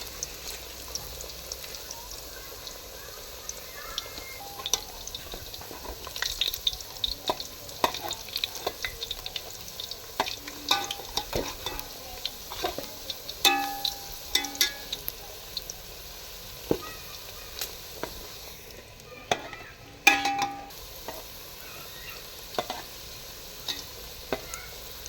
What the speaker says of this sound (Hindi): ये सब कुछ डाल के पहले इस तरह से इनको फ्राई करेंगे